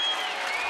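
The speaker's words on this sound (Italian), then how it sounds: "accompagnati dall'applauso di Santa Croce" Spectators packing the stands at Santa Croce for the Calcio Storico Fiorentino final, Rossi vs Azzurri, break into a brief, dense burst of applause with a whistle riding over it.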